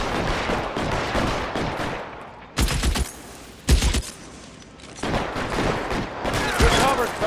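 Rapid bursts of gunfire in the video game L.A. Noire, with several loud sharp volleys and single shots between stretches of noisy action, while voices speak over the fighting.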